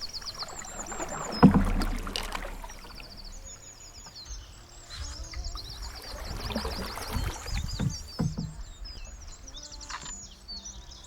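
A canoe paddled along a narrow, constricted river with overhanging branches, quiet splashes and knocks of paddle strokes close by, while birds chirp and call throughout.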